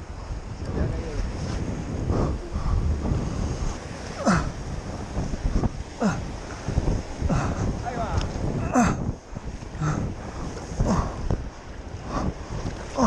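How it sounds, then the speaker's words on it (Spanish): Ocean waves wash in at Monsul beach under gusty wind buffeting the microphone, with people talking over the surf and repeated splashes rising and falling through the scene. "Ahora hay más olas que antes"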